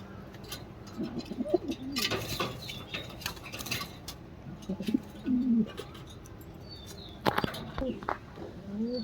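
Pigeons, including foreign tiger pigeons on a pigeon farm, coo in soft, repeated low bursts, with brief rustling and clatter around them and someone talking intermittently.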